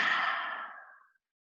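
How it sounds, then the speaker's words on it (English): One forceful, breathy exhale during a lion's breath yoga exercise, loud at first and tapering away over about a second into silence. "Exhale, lion's breath."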